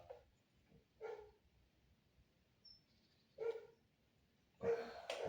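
Neighbour's dogs barking at a distance, a few faint separate barks spaced out over several seconds, the last ones louder and closer together, against a quiet background.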